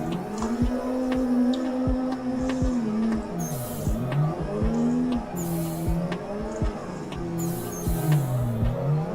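A modded drift car in the Assetto Corsa racing game revs and brakes hard, its engine note rising and falling repeatedly with tire squeal and skidding, joined by other cars' engines in a busy drift event.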